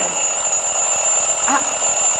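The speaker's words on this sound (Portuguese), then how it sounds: "Opa, espera aí, vocês estão ouvindo? Esse despertador..." An alarm clock rings steadily and loudly through the whole stretch, a continuous bright electronic tone over low room noise, with a brief voice-like blip partway through.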